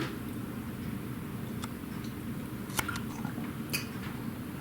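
Close, soft chewing of a brigadeiro, the chewy Brazilian chocolate candy, with a few faint squishy bites and clicks over a steady low background.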